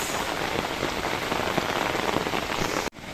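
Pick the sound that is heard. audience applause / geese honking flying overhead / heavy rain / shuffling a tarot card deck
heavy rain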